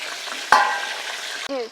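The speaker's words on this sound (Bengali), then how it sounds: "একটু নুন দিয়ে দিই আলু ভাজার জন্য" Hot oil hisses and crackles steadily as potatoes fry, with a sharp clink partway through and a brief ringing tone near the end.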